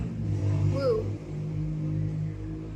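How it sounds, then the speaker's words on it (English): A motorcycle passes outside, its engine rumble a low, steady drone that swells briefly and then holds under a distant background, with a short vocal exclamation heard over it. "That was a motorcycle going by."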